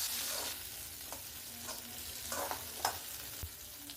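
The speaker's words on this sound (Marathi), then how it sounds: "आता इथे काजू जे आपण तळून घेतले त्याच तेलामध्ये आपण जे वाटण आहे काजू मसाल्यासाठी लागणार ते आपण सगळं वाटण ह्याच्यामध्ये तळून घेऊयात। पहिल्यांदा मी कांदा टाकून घेते।" Chopped onion fries in hot oil for a cashew masala, giving a soft steady sizzle broken by the scrape and clatter of stirring.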